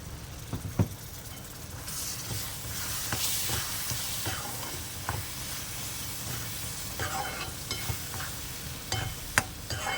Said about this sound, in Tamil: அந்த மிளகாத்தூள் கொஞ்சம் பச்சை வாசனை எண்ணெயில் போனதுக்கப்புறம்